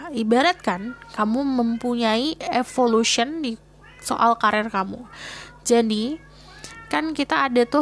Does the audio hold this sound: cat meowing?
yes